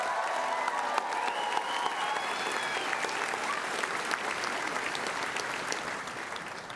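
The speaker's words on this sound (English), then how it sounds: "Can I get one more huge round of applause for all of our graduates here today?" Sustained applause from a crowd honoring graduates at the North Idaho College 2023 commencement ceremony, steady and dense throughout with scattered whoops rising over the clapping.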